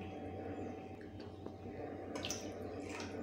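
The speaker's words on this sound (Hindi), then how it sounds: "हमने इसमें 2 ग्लास पूरे भर के पानी डाले हैं" Water, two full glasses of it, pours into a cooking pot while making misal, giving a steady, soft rushing splash with no speech.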